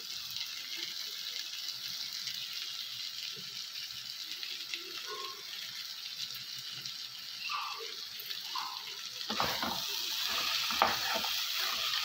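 Chicken frying in a pan in a home kitchen, a steady broadband sizzle that holds throughout and swells louder with some stirring clatter near the end.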